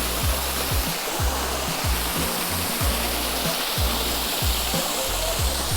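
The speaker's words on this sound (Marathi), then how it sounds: "ज्यांना धबधब्याचा फील घ्यायचा आहे त्यांच्यासाठी हा धबधबा खूप चांगली गोष्ट आहे" An artificial waterfall at a village in Shahapur roars steadily and loudly, a dense rushing wash of water with a faint low rhythmic thump underneath.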